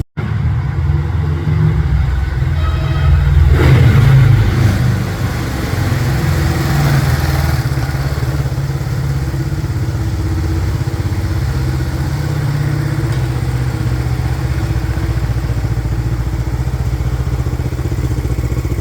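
A 1969 Honda CL450 motorcycle engine runs steadily, a loud close low throbbing rumble with clattering mechanical texture and a brief swell in revs early on, no talk.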